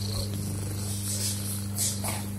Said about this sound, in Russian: Кошка уже ходит, результат на лицо, муркает.